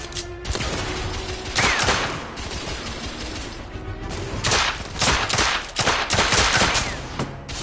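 Rapid gunfire bursts from the video game The Order: 1886, loud dense volleys and shots layered over a continuous rumbling game soundscape.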